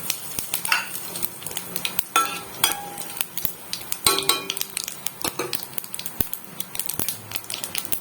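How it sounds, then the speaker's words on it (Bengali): Bay leaf, dried red chilli, cumin, cloves, cinnamon and cardamom crackle and sizzle in hot white oil in a kadai, with frequent sharp clinks and scrapes of a metal spoon stirring close up. "এগুলো আমি সাদা তেলে দিয়ে দিচ্ছি"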